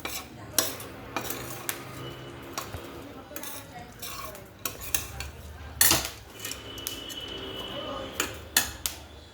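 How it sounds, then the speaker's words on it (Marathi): Chakli bhajani flour dry-roasting in a pan, stirred with a metal spoon that clinks and scrapes against the pan in irregular bursts over a soft hiss, with faint voices in the background. "लालसर आचेवरती भाजून घ्यायची आहे"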